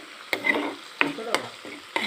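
A salted duck egg with onion and chili fries in a pan as it is stirred, giving a soft sizzle broken by sharp, close spatula clacks at irregular intervals, with no one speaking.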